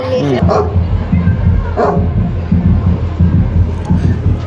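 Dog barking and yipping in a Tamil neighbourhood of Mysore, repeated barks close by over steady crowd noise and chatter, with people talking throughout.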